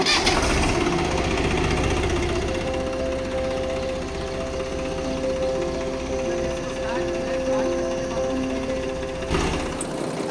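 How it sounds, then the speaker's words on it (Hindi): Swaraj 735 FE tractor with power steering, its diesel engine starting and then running steadily at idle, loud and close, with a constant low rumble and rattling clatter throughout; someone talks over it. "अभी ट्रैक्टर में स्टार्ट करता हूं"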